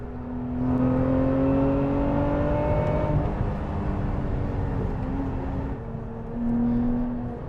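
Lotus Emira V6 sports car on the Bathurst circuit at speed, engine and exhaust droning loudly with rising and falling tones as the revs climb and shift, a sustained close whir inside the car.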